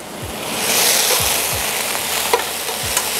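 Thick slices of shiitake mushroom sizzle in a hot pan, a steady hiss with a few soft stirring knocks scattered through it.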